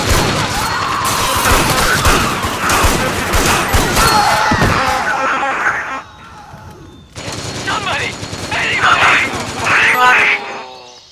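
Metal Gear Online gunfire in a forest firefight: a loud, busy barrage of shots for several seconds, a brief drop-off, then more sharp reports with mechanical clatter, while a voice speaks over the action.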